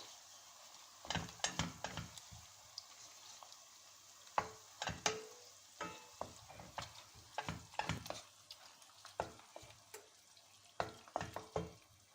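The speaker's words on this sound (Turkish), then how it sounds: "Şimdi bir kaşık domates salçamızla bir kaşık biber salçamızı ilave edip biraz kavuruyoruz." Onions frying in a pan with a spoonful each of tomato paste and pepper paste, being stirred: soft sizzle under intermittent scraping and clattering stirs, close and moderately loud, with no talk.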